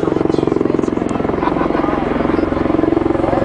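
An MV-22 Osprey tiltrotor flies during a Marine Week 2011 amphibious assault demonstration in St. Louis, its rotors beating in a loud, steady, rapid throb that fills the whole stretch, with voices faintly underneath.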